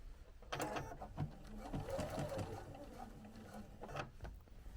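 A sewing machine runs in short, steady stitching bursts, whirring and ticking close by, while binding the scalloped edge of a quilt with a pause between runs.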